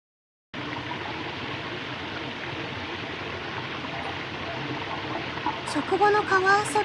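A river stream flows at a solo campsite, a loud, steady rushing hiss that starts abruptly and continues evenly, with a brief voice near the end.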